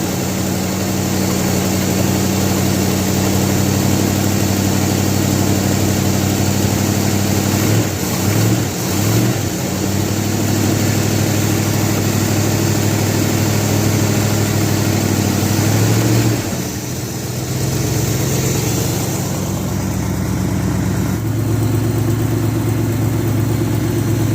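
A 1967 Chevelle engine with slow ignition timing runs loud and steady close by, its idle shifting pitch a few times.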